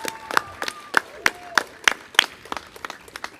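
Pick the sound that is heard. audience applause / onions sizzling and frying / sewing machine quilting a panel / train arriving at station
audience applause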